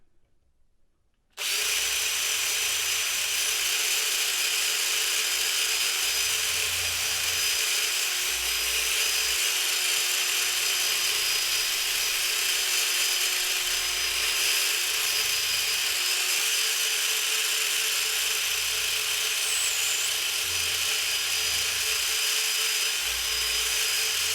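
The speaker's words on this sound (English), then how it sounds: "Now I've got to drill the holes for the bottom ones on this side" After a moment of quiet, a power drill whines steadily and loudly, running almost continuously while it bores holes into a wooden snowshoe frame.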